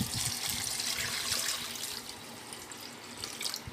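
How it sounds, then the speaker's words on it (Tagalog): Tap water runs steadily into a cooking pot for boiling barley, a continuous close splashing rush with no talk. "Tapos lalagyan ko ng isang ganyan kadaming tubig ko."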